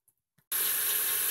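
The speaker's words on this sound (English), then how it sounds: "We're just going to rinse off all this murky liquid and then fill it up with water." Tap water runs into a container of straw being filled for soaking, a steady bright hissing rush that starts abruptly after a half-second of near silence and continues at moderate level.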